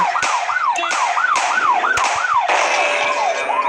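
A police car siren in the video game Dude Theft Wars wails loud and close in a repeating up-and-down sweep, with sharp game impact thuds breaking in now and then.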